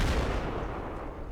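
Artillery shell fired in a tank video game, a single deep booming blast that decays into a rumbling tail, fairly close and heavy.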